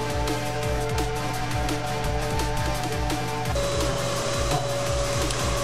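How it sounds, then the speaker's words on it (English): A dust blower pushes grinding dust out of a three-car garage ahead of epoxy floor work, giving a steady loud whine with a pulsing low rhythm that shifts pitch partway through, with no talk over it. "we're using a dust blower to blow all these outer dust that we got from grinding right outside the perimeter"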